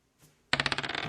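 Dice roll onto a hard tabletop after a faint initial tap, bursting into a quick series of bright clattering bounces that speed up and fade into a short rattle, close by.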